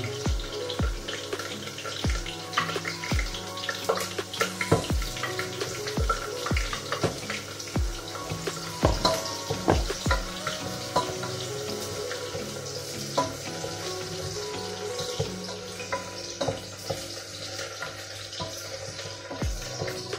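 Ginger and garlic frying in a pan, a continuous close sizzle broken by frequent sharp spoon taps and scrapes against the pan throughout.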